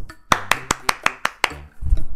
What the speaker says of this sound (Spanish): le vamos a dar un aplauso por eso.